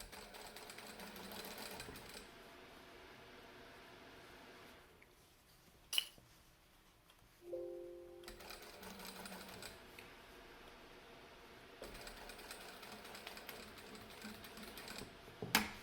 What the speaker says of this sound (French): On pique à 1 mm du bord. Toutes les coutures couchées là-bas, on surpique sur toutes les valeurs de couture.